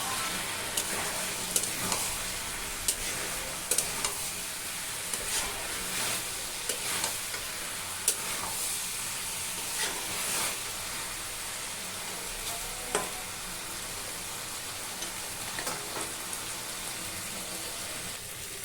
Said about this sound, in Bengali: এবার এই চিংড়ি দিয়ে 10 মিনিট আর কষাবো